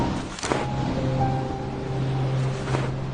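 Sea waves wash against the shore in a steady, broad rush, with two louder swells as the surf rolls in.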